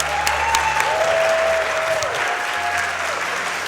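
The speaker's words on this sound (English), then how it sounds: "Let's give a round of applause for that." Applause from a crowd at a speedrun charity marathon, steady clapping that fills the whole stretch, fairly close, with a faint tone sliding in the background.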